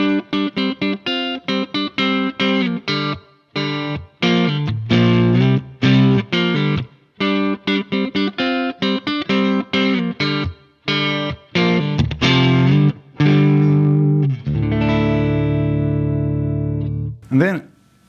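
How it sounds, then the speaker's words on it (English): Electric guitar through a Mesa Boogie amp on its clean channel, playing a busy run of choppy chords and single notes, then a long sustained low note fading out with a final short accent, loud and close. "now Boogie's clean channel, it sounds like this"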